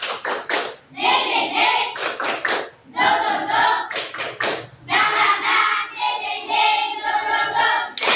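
Classroom of pupils doing a rhythmic spirit clap chant (tepuk semangat) led by the teacher, sharp clap bursts in patterned groups alternating with loud chanted children's voices, close and lively.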